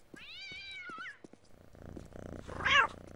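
Cats in a survival video game: a drawn-out wavering meow comes first, then a low rumbling stretch and a second sharp, louder meow close by.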